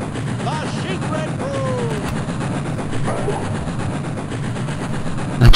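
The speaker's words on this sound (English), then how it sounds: "That train is just so damn loud." A loud train in the video game 102 Dalmatians: Puppies to the Rescue rumbles steadily and continuously, with faint squeals and clatter over the roar and a sharp bump at the end.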